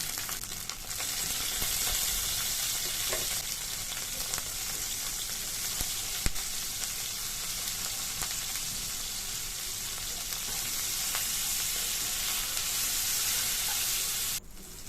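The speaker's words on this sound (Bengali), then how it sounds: "কড়াইতে ভেন্ডিগুলো আমি দিয়ে দিলাম দিয়ে এবার আমি নুন আর হলুদ দিয়ে ভেন্ডিটা ভেজে নেব" Okra frying in oil in a wok with salt and turmeric, a dense continuous sizzle that stays steady and fairly loud, with occasional light stirring clicks.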